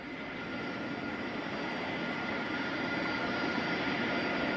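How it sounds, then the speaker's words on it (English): The Space Shuttle carrier aircraft, carrying Space Shuttle Endeavour, landing at Ellington Field near Houston: a broad, steady jet roar that grows slightly louder throughout, distant and continuous with no voices. "we're getting live footage of the Space Shuttle carrier aircraft with the Space Shuttle Endeavour"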